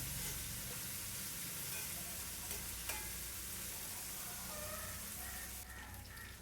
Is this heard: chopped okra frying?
yes